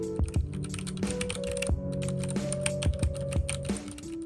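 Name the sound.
typing on Ducky One 2 Mini keyboard, brown switches, O-rings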